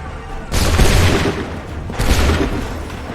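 Musket volleys in Assassin's Creed III, two loud booming massed discharges about a second and a half apart, each with a long rolling crackle that decays into the open air.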